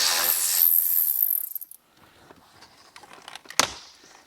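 Removing Phillips screws from the center panel of a Jeep Wrangler JL, a burst of hissy rubbing followed by soft scraping and small clicks of a driver turning, with one sharper knock near the end, close and fairly quiet.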